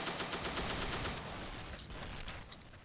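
A Grease Gun fires in Dino D-Day, a rapid burst of fairly slow, evenly spaced automatic shots that carries on through a dense, noisy game-battle mix.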